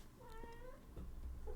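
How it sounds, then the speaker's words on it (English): A single cat gives one clear, drawn-out meow close by and fairly quiet, followed by faint low rustling. "Hey, there's a cat here."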